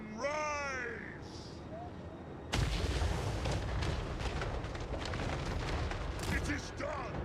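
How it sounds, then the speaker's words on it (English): Fleet cannons firing in a game battle, a sudden heavy roaring burst of broadband blasts and rumble that continues with repeated cracks, following raised voices and crow-like cries. "Cannons fire!"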